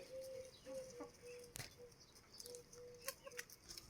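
Chickens in a village farm yard give faint, scattered clucks and short calls, likely from an Australorp rooster, over a hissy background with a brief louder burst midway.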